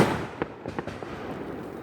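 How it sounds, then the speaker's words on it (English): Fireworks going off at a distance, a few muffled pops and crackles over a steady rumbling background, faint and unclear. "Where did that firework come from?"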